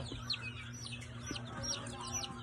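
Hens and chicks in a backyard, soft clucks with many high cheeping chick peeps throughout, faint and moderately near under a low hum.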